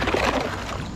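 A kayak paddle stroke on a creek gives a brief, close slosh and gurgle of water that fades within a second.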